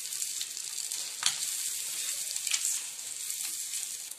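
Boiled eggs fry in a pan with a soft, steady sizzle and hiss, broken by a couple of brief louder spits, alone and fairly faint.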